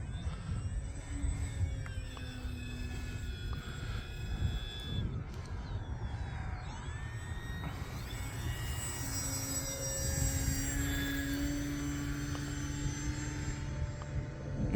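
A Flex Innovations QQ Yak 55 RC model airplane flies overhead, its electric motor whine rising and falling in pitch through a stall tumble, steady and moderately distant over low wind rumble.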